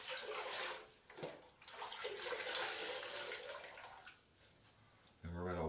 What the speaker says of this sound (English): we're going to rinse thoroughly